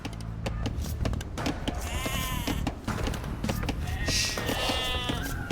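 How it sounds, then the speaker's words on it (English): Sheep bleat repeatedly over busy game sounds in Age of Empires II: Definitive Edition, several wavering bleats overlapping with clicks, footsteps and ambient battle noise, with a voice talking in the background. "villagers can herd sheep or hunt deer for food."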